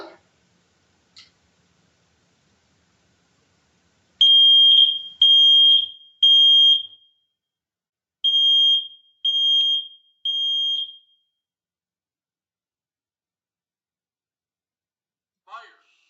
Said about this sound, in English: So we want to test the smoke alarm when you hear the beep.